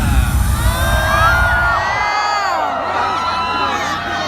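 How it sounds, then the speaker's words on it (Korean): A loud concert crowd cheers and screams with many overlapping high voices at a Korean hip-hop performance, dense at first then thinning out over a few seconds. "여러분들 환호가 좀 짧아요."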